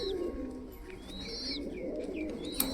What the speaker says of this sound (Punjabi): ਕਬੂਤਰ ਤਾਂ ਆਪਣੇ ਦੇਖੋ ਤੁਸੀਂ ਕਿਵੇਂ ਲੱਗੇ ਪਏ ਨੇ ਨਹਾਉਣ